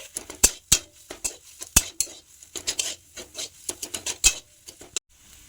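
A spoon scrapes and clinks against a metal pan while salt, turmeric and cumin powder are stirred into a potol (pointed gourd) mixture for potol chop, giving irregular sharp taps and scrapes, close and fairly loud, with no talking.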